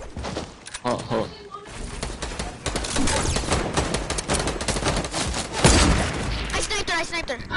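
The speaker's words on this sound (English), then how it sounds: "I'm getting shot at." Rapid bursts of gunfire and explosive impacts in a Fortnite-style battle royale video game, dense and continuous at close range, mixed with players talking over the action.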